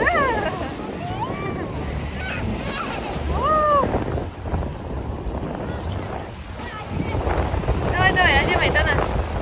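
Strong waves surging on the shore of Alakol lake in high wind, a rushing wash of water under heavy wind buffeting, with people's voices and shouts over it.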